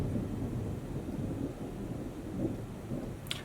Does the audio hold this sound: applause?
no